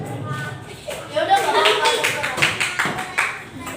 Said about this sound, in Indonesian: beri tepuk tangan pada kelompok 3